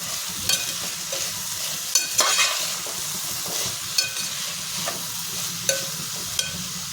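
Chopped capsicum with salt and coriander is stirred in a hot pan: steady sizzling with periodic scraping strokes of a spoon against the pan, close and fairly loud.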